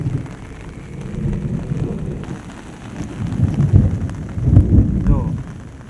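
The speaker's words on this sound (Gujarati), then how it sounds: "કન્ટિન્યુ ગાજ ને વીજળી ચાલુ જ રહે છે." Heavy monsoon rain pours down in Gujarat while deep thunder rolls and rumbles repeatedly, swelling in a few loud waves over the steady hiss of the downpour.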